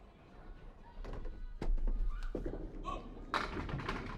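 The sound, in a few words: candlepin bowling ball knocking down pins for a strike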